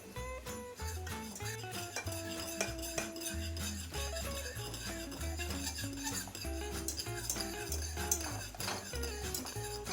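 A spoon scrapes and clinks against a pot while turkey dressing is stirred to break up lumps, a steady run of metallic taps over a background of music-like tones.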